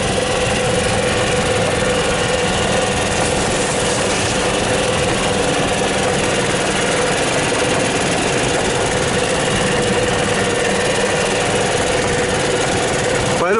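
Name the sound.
vehicle driving on an off-road trail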